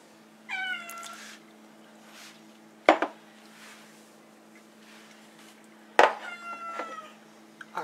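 A cat meows twice in rising, harmonic calls, then sharp clatters of dishes in a kitchen while soup ingredients go into a slow cooker, with another drawn-out meow after the second clatter over a low steady hum.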